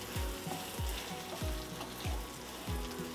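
Roasted peanuts sizzle and crackle in hot oil in a pan for sabudana khichdi, with a steady frying hiss and regular low thumps of stirring about every half second, close and moderately loud, no talking.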